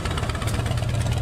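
Hot rod engine fitted with motorcycle exhausts idling at a car show, a loud, steady low rumble with uneven pulsing throughout.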